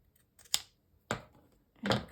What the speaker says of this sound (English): I'm going to use my pinking shears here